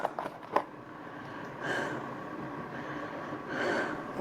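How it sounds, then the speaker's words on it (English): Heavy out-of-breath breathing, close and loud, with a few sharp gasps at the start and then two long drawn breaths a couple of seconds apart. "The breathing."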